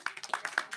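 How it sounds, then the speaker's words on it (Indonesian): Scattered hand claps from a few people in a talk-show or panel setting, uneven and sparse, each clap sharp and close. "Tepuk tangan buat Bang Rustam dulu"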